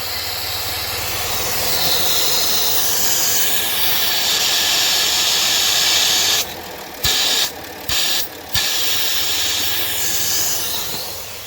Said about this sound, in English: Yep, there's a hole in that PCV line, I want to say.